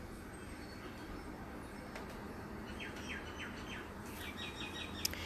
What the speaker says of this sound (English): if you're hearing any birds, that's because I'm sitting outside